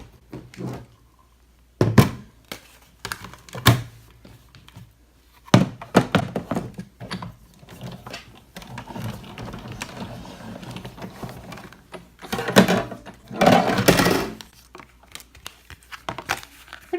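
An embossing folder is cranked through a Big Shot die-cutting machine, giving a string of close thunks, clicks and ratcheting mechanical knocks with crinkling in between, spread across the whole stretch without talk.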